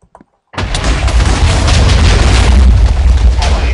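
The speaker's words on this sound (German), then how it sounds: "Die Explosion war größer als gedacht." A sudden loud boom of dynamite exploding in Minecraft bursts in after a brief near-silence, followed by a sustained rumbling roar that stays heavy and loud to the end.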